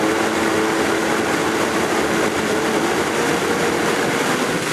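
A continuous, dense roar fills the whole stretch as a blender grinds a thick coconut and nut yogurt mix at high speed, steady and close, with no talking.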